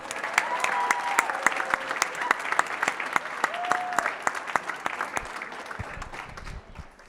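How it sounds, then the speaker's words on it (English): Demo day audience applauding the Main Street Entrepreneurs Seed Fund founders: a loud, close round of clapping with distinct sharp claps and a few faint whoops, thinning out and fading toward the end. "Let's give them one more huge round of applause."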